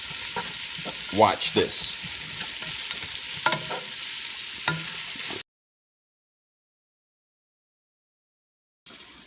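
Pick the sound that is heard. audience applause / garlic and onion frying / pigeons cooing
garlic and onion frying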